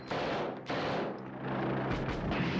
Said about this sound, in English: Burst of gunfire.